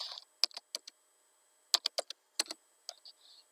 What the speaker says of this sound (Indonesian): Ini langsung saja kita ketik nomor.